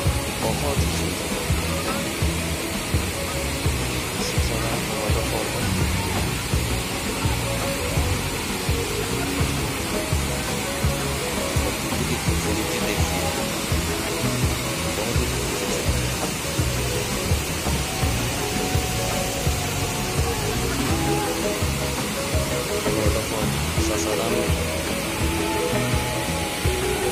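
The Sasaram waterfall gives a loud, continuous roar of rushing water that stays dense and unbroken throughout, with no clear voices over it.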